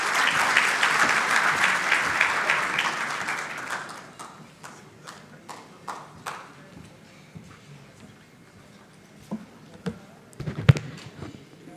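Warm audience applause at a regional political party conference as a speaker is welcomed, a loud sustained clapping that fades to a few scattered claps, followed by faint shuffling and a sharp knock near the end.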